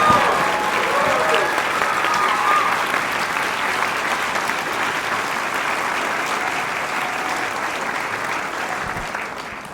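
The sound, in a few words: audience applause at orchestra concert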